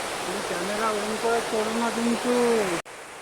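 Water rushes at a waterfall in Coorg, a loud, constant broadband roar close by, while a person talks over it before the sound cuts off abruptly near the end.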